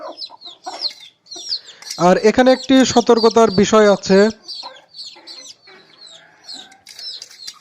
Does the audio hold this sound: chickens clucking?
yes